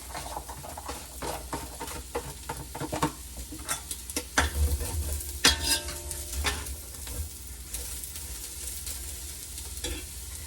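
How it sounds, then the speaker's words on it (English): Onions sizzle and crackle in hot avocado oil in a pan, a steady frying hiss with sharp pops and stirring scrapes throughout, close and fairly loud with no talking. "We're going to add our onions."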